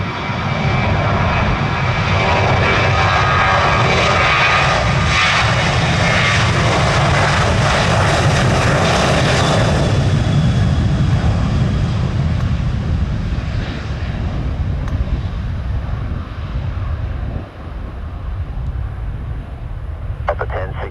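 United airliner taking off from Orlando International Airport, a loud, sustained engine roar and broadband rush that holds steady for most of the run and slowly thins out near the end.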